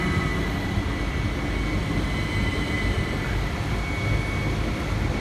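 A train pulls into Paddock Wood station, a loud, steady rumbling roar with a faint high whine, continuous and close, no voices.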